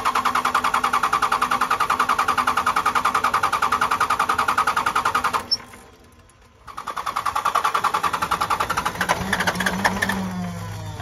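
A 2nd gen Cummins diesel engine cranks after a lift pump filter change, with the starter making a fast, even rhythmic churn. The cranking stops briefly, then starts again, close and loud.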